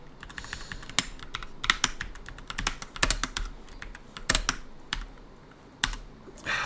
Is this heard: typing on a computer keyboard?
yes